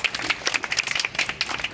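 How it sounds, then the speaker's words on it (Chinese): An audience claps for two museum directors at the opening of a university art department graduation exhibition, producing a brief burst of dense, close applause. "我们给两位馆长一个掌声好不好？"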